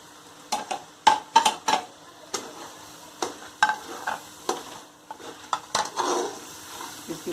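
Mutton frying in a pan with garlic ginger paste and spices, a steady sizzle broken by repeated scraping stirs of a spoon against the pan in an irregular rhythm, close and fairly loud.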